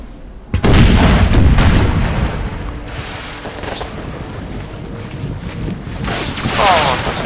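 Artillery cannons in an American Civil War mod video game boom out, with a sudden heavy blast followed by rumbling, wind-like noise and further muffled reports.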